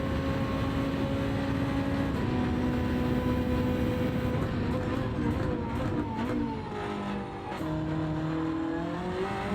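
Race car in Gran Turismo 7 running a Le Mans lap in a Gr1 car, its engine droning steadily, then rising and shifting pitch as it accelerates and oversteers out of a corner, with a faint tire squeal.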